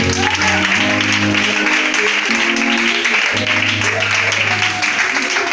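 A church congregation applauds and acclaims the Lord during a worship service, sustained loud clapping with sustained tones and voices mixed underneath.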